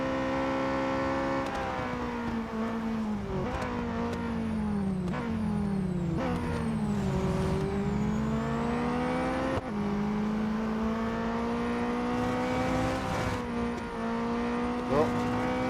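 Race car engines roar in the mobile racing game Real Racing 3 during a multi-lap race, whining up and down through repeated gear shifts with smooth rising and falling pitch. The sound is loud and continuous, and no one speaks.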